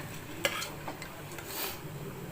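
Vegetable kurma of onion, tomato, cauliflower, peas, carrot and potato stirred in a frying pan, with a faint sizzle and a few soft spoon scrapes and clinks, quiet and close.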